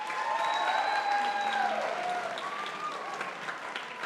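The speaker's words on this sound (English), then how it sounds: "Let's do it by clapping." At a school talent show, the audience claps as a vote for an act. The clapping is fairly faint and distant, with a few voices and some tonal sounds over it.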